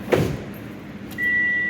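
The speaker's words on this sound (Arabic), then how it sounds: "راح نشوف اليد مال الباب هاي تشتغل من هنا ولا ما تشتغل" Door lock of a Hyundai Sonata worked from the exterior handle: a short mechanical clunk near the start, then a steady whirring tone from about halfway on, close by with no talk.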